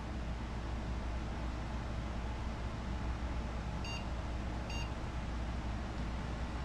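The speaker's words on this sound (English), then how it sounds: "we do have some beeps coming from our system here" A retro PC at power-on gives two short electronic beeps about a second apart over a constant loud fan and hiss.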